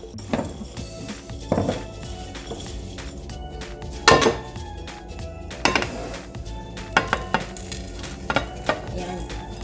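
Tilapia is mixed with salt and rice in a bowl, with repeated clinks and knocks of a utensil against the bowl at an uneven rhythm, close and fairly loud over a faint background.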